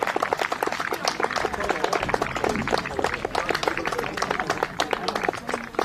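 Crowd applause at an intermediate football cup final between Dollingstown and Newington, steady dense clapping filling the whole stretch with a busy crowd murmur underneath.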